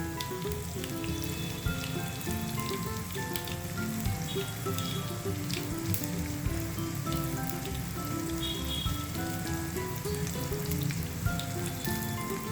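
Makhana and poha fry in hot oil for a chivda, giving a steady, dense crackling sizzle throughout, close and moderately loud, with soft music in the background and no talking.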